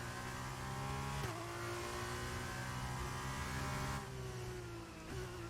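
Formula 2 car engine roaring at a race start in the F1 23 video game, a loud, sustained high-pitched whine that climbs through gears with brief dips at each upshift, alone without talk.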